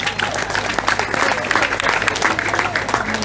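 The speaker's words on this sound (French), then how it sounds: "Vos applaudissements s'il vous plaît." An audience at a sports club association evening breaks into sustained applause, dense clapping from a crowd filling the whole moment at steady loudness.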